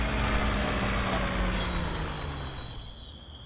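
A large truck slowing to a halt beside a toll tower at night, with a sustained engine rumble and a hissing air-brake release that fades as the vehicle comes to rest.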